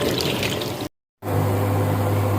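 Water at a rolling boil in a cooking pot for blanching winter vegetables such as beans, a steady close bubbling roar with a low hum, broken by a brief silent gap partway through.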